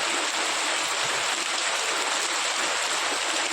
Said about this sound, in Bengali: শুনতে পাচ্ছি যে টিনের উপর বৃষ্টি হচ্ছে